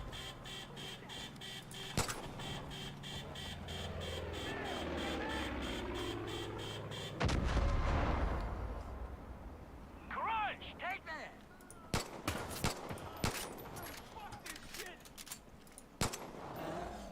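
Gunshots ring out in a PC video game: several sharp, separate cracks spaced a few seconds apart, with one heavier burst midway, set against a background of game sounds.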